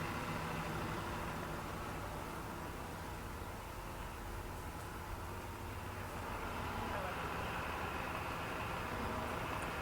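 A tractor's engine runs at a steady, fairly quiet drone under light hydraulic throttle while lifting a Bridgeport milling machine at an auction, a continuous low rumble with faint voices mixed in.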